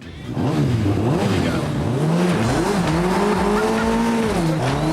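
Megabusa car powered by two motorcycle engines launching on tarmac, a loud high-revving engine climbing through gears with tire squeal, close and continuous.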